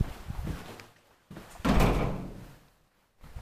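A heavy manual landing door on an old mid-1970s Kone traction elevator in a Finnish apartment building thuds and clatters shut, followed by a long resonant rumble and a brief pause before further mechanical noise.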